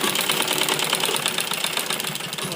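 A sewing machine stitching a men's kurta, running loud and close with a fast, steady, continuous mechanical clatter throughout.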